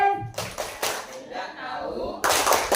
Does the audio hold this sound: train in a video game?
no